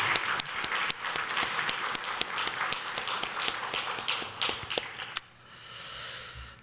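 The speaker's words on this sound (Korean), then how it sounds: "하나님 앞에 박수로 영광 돌리겠습니다" A church congregation claps together in praise during a Sunday morning service, a steady wash of many hands with sharp individual claps standing out, ending abruptly and giving way to a quieter room tone near the end.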